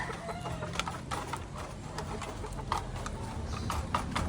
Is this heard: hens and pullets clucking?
yes